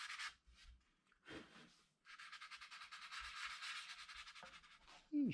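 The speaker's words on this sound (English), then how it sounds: "I need to sand it a bit to make it softer." Sandpaper rubs over the wooden body of a Les Paul copy guitar in close, soft, hissing strokes, a couple of short passes followed by a longer run of rapid back-and-forth sanding.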